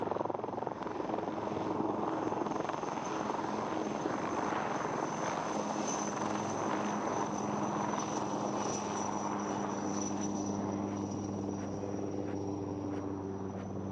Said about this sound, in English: Conventional helicopters cannot perform this maneuver as crisply, as swiftly as the LCH.